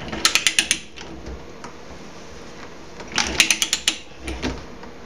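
A ratcheting pipe threader cuts threads on pipe in two rapid bursts of close, sharp clicks separated by a pause, with faint mechanical creaks and no talking.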